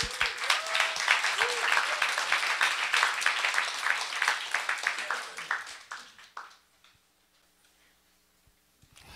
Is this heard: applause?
yes